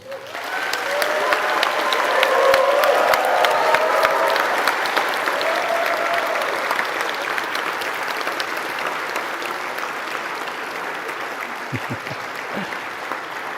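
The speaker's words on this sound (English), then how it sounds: "Give them a huge round of applause." A large crowd applauds at a university graduation ceremony, sustained loud clapping that swells early then holds at an even level for over ten seconds, with faint murmuring beneath.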